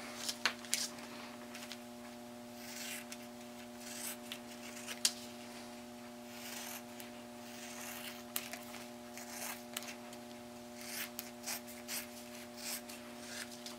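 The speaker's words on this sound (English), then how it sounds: "Just a good pair of scissors." Scissors snip through rhinestone decal material in a string of short, quiet cuts and rustles, close by against a steady background hum, with no voices.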